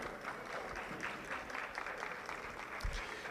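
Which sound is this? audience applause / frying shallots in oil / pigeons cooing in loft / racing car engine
audience applause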